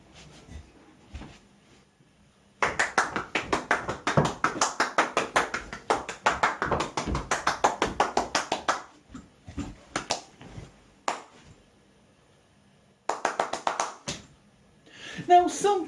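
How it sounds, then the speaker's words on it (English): Several bursts of close hand clapping, rapid steady runs of claps with short gaps and a few isolated single claps, ending with a spoken voice. "But when you can have this done to you, this clapping, why would you want anything else?"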